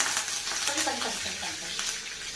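Washed curry leaves hit hot oil in a pan while cooking a Marathi pumpkin vegetable dish, giving a bright crackling sizzle with quick pops and spatula scrapes, close and fairly loud.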